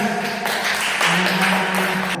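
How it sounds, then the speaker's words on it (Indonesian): Students in an Indonesian classroom clap together in a steady, dense burst of applause lasting about two seconds, close and fairly loud. "tepuk tangan ikhlas"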